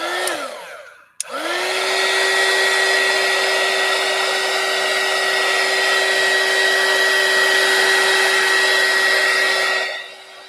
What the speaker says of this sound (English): get my cord unwrapped around my handy dandy dryer